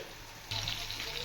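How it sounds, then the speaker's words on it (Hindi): Capsicum and onion start frying in a pan for chilli chicken, a sudden steady sizzle and hiss breaking in and running on without a pause. "कैप्सिकम और प्याज फ्राई हो रहा है"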